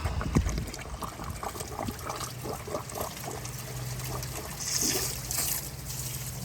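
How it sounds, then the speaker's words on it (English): Water runs from a garden hose into the radiator of a 2010 Dodge Avenger 2.4, a steady trickling and splashing pour with a low mechanical hum beneath and some brief knocks. "I'm gonna go over here and turn this water on. All right, now we got some water."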